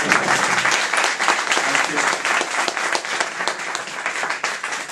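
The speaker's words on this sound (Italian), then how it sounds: "Direi che questo applauso lo dedichiamo a tutti i militanti che hanno lavorato." Loud, dense applause from a crowd at a Lega Nord election rally in Portogruaro, sustained and even throughout, with a voice faintly audible beneath the clapping.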